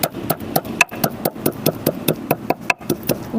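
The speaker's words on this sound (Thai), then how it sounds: "อันนี้กระเทียม ทุบๆ" Garlic being smashed for a stir-fried cauliflower dish, a steady run of sharp, evenly spaced knocking thuds on a hard surface, close and moderately loud, with no speech.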